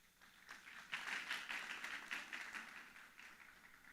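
A church congregation at a seminar applauds, a modest burst of clapping that rises after a half second and holds fairly even before tapering, heard from some distance.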